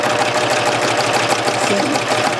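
A serger sewing machine stitches a fabric seam for a rail fence quilt block, with a steady, loud, fast mechanical whir running throughout at an even rhythm.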